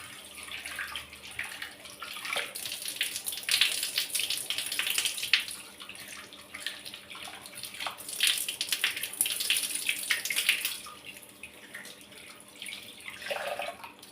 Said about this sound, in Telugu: ముందుగా పెసరపప్పును నీట్గా 2 నుంచి 3 సార్లు కడుక్కోవాలి.